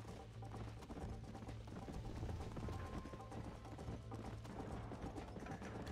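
Horse hooves clip-clop steadily in a video game, a continuous galloping patter with rattling game sounds mixed in, fairly close and even in level throughout.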